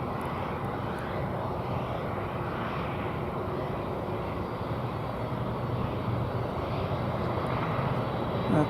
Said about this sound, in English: That's an A319 American flight 2596